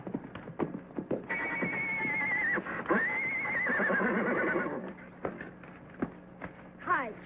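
A horse named Champion gives long, loud whinnies close by, mixed with hoof clip-clops and brief voices before and after.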